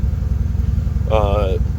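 A Ford 4.6 engine, freshly warmed up, idles with a steady low throbbing pulse throughout, and a person speaks briefly over it.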